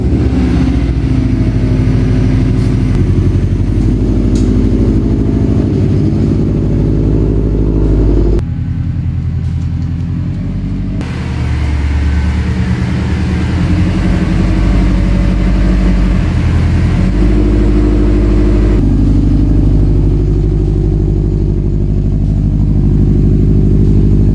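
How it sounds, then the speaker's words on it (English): A Subaru WRX/STI engine runs at a steady idle while warming up, giving a loud, continuous low rumble throughout with a brief dip in level partway through and no talking. "the first thing we need to do is warm the car up to normal operating temperatures"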